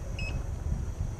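A Gotway Monster electric unicycle sounds its low battery alarm, a single short high-pitched beep over a low background rumble.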